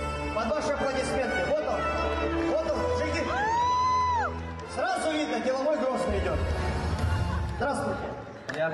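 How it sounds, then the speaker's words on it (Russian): Audience at the SMG Awards 2021 ceremony in the Chechen Republic cheers and whoops with crowd noise over loud stage music, voices rising throughout. "Под ваши аплодисменты."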